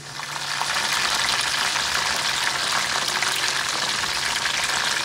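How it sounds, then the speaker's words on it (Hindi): Rolls and samosas frying in hot oil in a home kitchen give a steady, dense sizzle that holds at an even, close level throughout without pause. "और सबसे एंड में बस ये रोल्स और समोसे मैं फ्राई कर रही हूँ"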